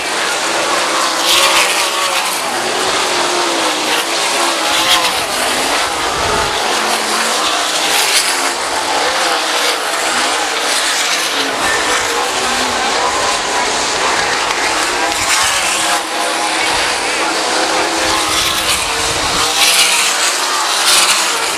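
Race cars roar around the Oskaloosa Southern Iowa Speedway track, engines revving and passing continuously and loudly with the crowd noise of a dirt oval race beneath.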